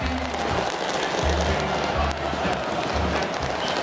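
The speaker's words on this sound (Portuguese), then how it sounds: "Temos a comemoração da grande torcida do Botafogo aqui em todo o Brasil" Botafogo supporters celebrating the 2024 Brazilian championship make a dense, loud crowd roar of cheering and chanting, with rhythmic low thumps of drumming or bouncing underneath and a voice talking over it.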